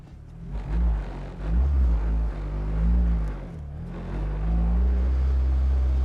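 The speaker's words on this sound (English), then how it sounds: "let's drive the MR2" A Toyota MR2 with a swapped-in Camry engine drives along, its engine droning low and steady with rising and falling revs as it pulls through gears, fairly close and continuous.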